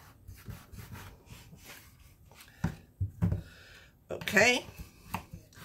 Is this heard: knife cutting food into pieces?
yes